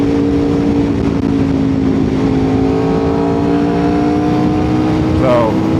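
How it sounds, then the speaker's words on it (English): An Aprilia RSV4 superbike's engine runs at a steady throaty idle, then rises briefly near the end, loud and close, with outdoor rumble throughout. "the Aprilia is the best sounding bike"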